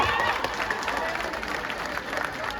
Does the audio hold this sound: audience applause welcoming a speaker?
yes